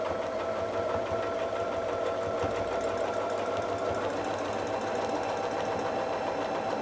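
A domestic sewing machine runs steadily while ruler-work quilting a dahlia design, its rapid motor hum and needle chatter continuous and close, with no pauses or talk.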